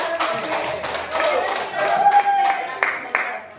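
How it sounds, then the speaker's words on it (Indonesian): Classroom applause for a student named Reski: several people clap in quick, uneven bursts, fairly close, with faint voices mixed in. "Aplaus untuk Reski"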